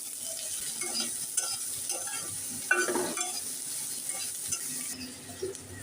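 Onion frying lightly in mustard oil in a pan for a broiler chicken breast mash, a steady close sizzle with occasional stirring scrapes and one sharper burst midway.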